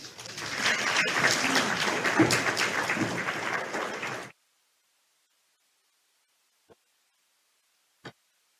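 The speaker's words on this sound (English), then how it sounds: "Let's give another round of applause" An audience at an honors celebration applauds to welcome faculty, a dense burst of clapping for about four seconds that cuts off abruptly, followed by near silence with a couple of faint clicks.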